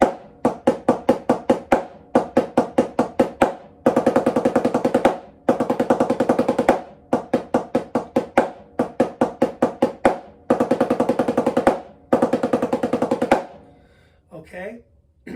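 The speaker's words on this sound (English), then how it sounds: "we just have an exercise playing a 13-stroke roll" A 13-stroke roll played on a snare drum, repeated in a steady practice pattern: quick buzzing bursts each ending in an accented stroke, close and crisp, with a faint count between groups.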